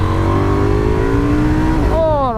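A KTM Duke 990 motorcycle revs hard nearby, its engine pitch sweeping and climbing steadily before dropping off, with rough exhaust crackle underneath throughout.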